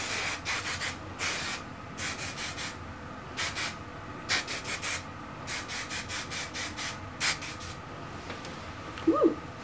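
Hair spray misted onto hair flipped upside down, heard as a run of short hissing bursts, some single and some in quick clusters, close to the ear with quiet gaps between them.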